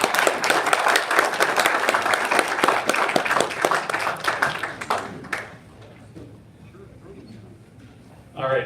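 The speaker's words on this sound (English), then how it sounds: "Give him a warm round of applause." Warm round of applause from an audience at an October county GOP meeting, loud dense clapping for about five seconds that quickly fades into near quiet, with a brief sound at the very end.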